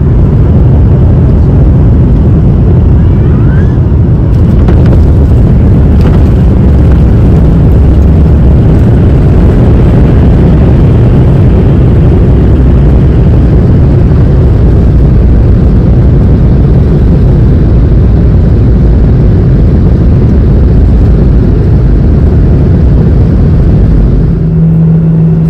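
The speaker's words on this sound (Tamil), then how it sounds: "ஸோ ஃபைனலி இப்போ வந்து ஃப்ளைட்டு லேண்ட் ஆகுது." Passenger jet landing on a flight from Muscat to Chennai, heard from inside the cabin as a loud, steady low engine roar and rumble that holds throughout, with a brief shift near the end.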